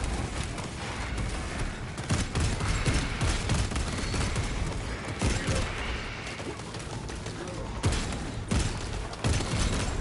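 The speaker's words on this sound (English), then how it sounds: "There they are. The orbital guns." Heavy, dense barrages of orbital gun fire in Warhammer 40k: Space Marine 2 rumble and crack almost without pause, loud and close, punctuated by sharper impacts.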